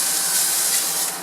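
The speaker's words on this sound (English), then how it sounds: "One, I'm going to give that a little spray." Cooking spray hisses from a can onto boneless pork loin chops, one short steady burst of close, bright spray noise.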